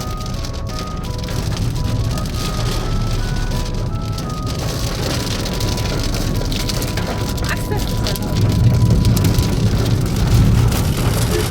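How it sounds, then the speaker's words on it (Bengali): Heavy rain pours steadily on a moving car during a drive toward Bardhaman, a dense continuous hiss with road rumble underneath, swelling louder near the end while a voice speaks briefly. "খুব জোরে বৃষ্টি পড়ছে"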